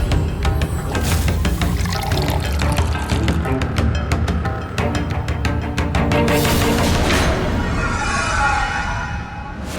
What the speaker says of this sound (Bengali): ফিনাইল মিশিয়ে দিয়েছি